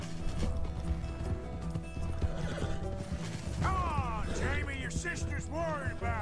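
Horse neighing and whinnying in Red Dead Redemption 2, with clip-clopping hooves and dense game sound underneath; several rising-falling whinnies come loud and near in the second half, mixed with voices.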